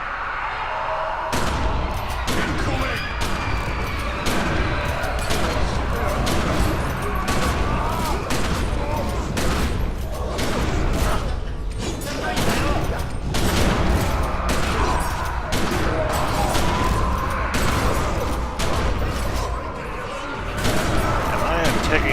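Repeated gunfire in the video game The Secret World, sharp shots cracking out in irregular volleys across the whole stretch over a dense background of game action.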